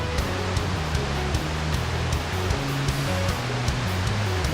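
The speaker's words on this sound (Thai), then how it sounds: "เรามาดูความงามของน้ำตกขุนกรนะครับ" Khun Korn waterfall at the end of the rainy season: a steady, loud, close rushing roar of falling water that continues without a break, with no talking.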